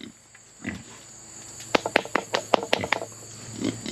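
Pig on a farm grunting a few times, followed by a quick run of sharp clattering knocks, fairly close and moderately loud, with no talk.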